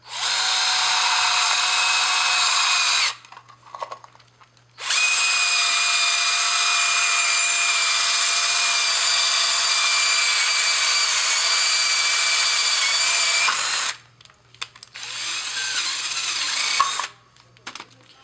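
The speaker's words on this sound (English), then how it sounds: "we're going to drill a hole right there" A power drill whines steadily for several seconds while drilling a hole in a VW MK6 Jetta, stops briefly, then runs again for a long stretch before a short final burst. Close and loud, with no talking.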